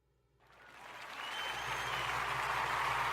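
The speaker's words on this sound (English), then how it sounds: "Thank you. Hold your applause, everybody." Audience applause for a show host rises from silence and swells into steady, dense clapping that holds strong to the end.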